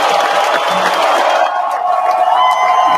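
A crowd cheers and applauds as a stock sound effect, a dense continuous wash of clapping and whooping held at an even loud level for three seconds, with no speech on top.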